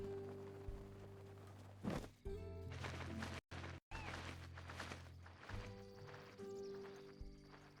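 Horse hooves in a Zelda video game, a quiet clip-clop of a trotting mount mixed with game music tones and brief sound effects, the steps running steadily with short dropouts.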